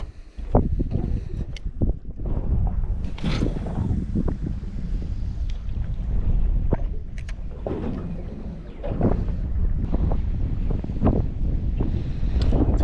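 Wind blows steadily over a boat drifting on the Hawkesbury River while fishing. A constant low rumble of gusts buffets the microphone, with occasional faint knocks and no speech.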